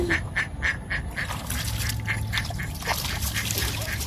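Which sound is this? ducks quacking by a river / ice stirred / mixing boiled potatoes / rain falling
ducks quacking by a river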